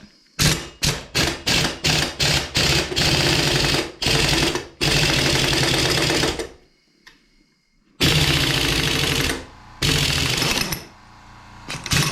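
An air-powered impact tool installs wheel studs on a Toyota Land Cruiser FJ40, loud and close, first as a run of rapid hammering bursts, then as long sustained rattling blasts separated by short pauses.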